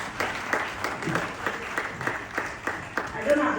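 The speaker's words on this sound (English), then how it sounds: "Clap for me." Keynote-speech audience at a dialogue event gives scattered, rhythmic clapping, individual hand claps standing out in a fairly quiet, reverberant hall, with talking mixed in underneath.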